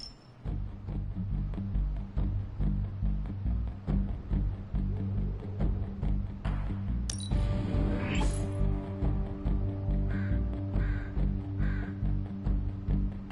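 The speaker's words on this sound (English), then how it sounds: "You ever wonder if those birds out there are stuck here, trapped in the Abbey's bubble?" Crows caw repeatedly in the video game Marvel's Midnight Suns, harsh calls spaced across a rumbling ambient game background, with a brief crash-like burst and sustained tones partway through.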